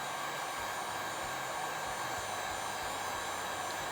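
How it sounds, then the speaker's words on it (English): A heat gun softening resin drips and tape adhesive blows a steady, loud airy whoosh with an even fan hum, close and uninterrupted with no talking. "You'll notice as the heat gun gets hotter, it'll take less and less time."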